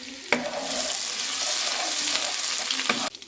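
Garlic frying in hot oil in a pan for a chicken sukka, giving a steady loud sizzle framed by two sharp clanks of a utensil at the start and end, with no voices.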